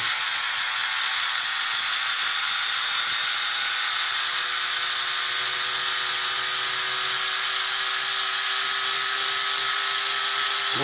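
A Rodin starship coil motor spins its wheel up, giving a steady high-pitched electric whine with a faint tone slowly rising over about ten seconds, close and continuous with no talking.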